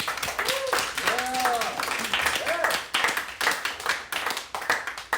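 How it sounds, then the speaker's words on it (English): Audience applause and clapping at a live podcast taping in front of a crowd, a steady dense patter of hands lasting several seconds with voices and a few whoops rising over it. "big round of applause for everybody"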